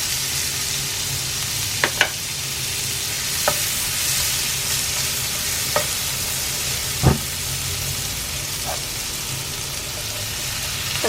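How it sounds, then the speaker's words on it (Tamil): Onions frying in butter or oil in a pan for spot idli, a steady close sizzle with a few sharp clicks and scrapes of a spatula stirring, no voices. "வெண்ணெய் தேவையில்லைன்னா நீங்கள் எண்ணெயில் கூட செய்யலாம். அதில் வெங்காயத்தை சேர்க்குறேன்."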